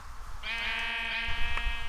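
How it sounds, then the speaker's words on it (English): A sheep in a video game gives a single drawn-out bleat, clear and fairly close, over a low background hum with faint clicks. "guess what I see? A sheep."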